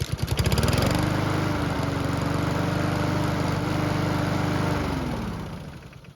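A hot Honda lawn mower engine is restarted after several minutes of running and settles into a steady, loud, chugging idle. The engine then winds down and cuts out near the end.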